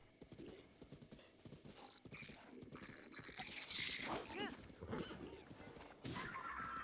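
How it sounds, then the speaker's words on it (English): Horse hooves clip-clop across open ground in Breath of the Wild, with a neigh and whinny rising midway. The animal sounds fairly close and carries on steadily with no talking over it. "I want to go after this horse, but I feel like that one getting startled is going to mess me up."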